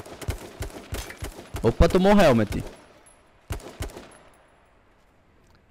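Gunfire in the battle royale game H1Z1: a burst of rapid shots and sharp cracks, followed by a couple of isolated shots, heard under a player talking.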